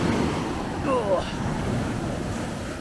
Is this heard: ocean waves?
yes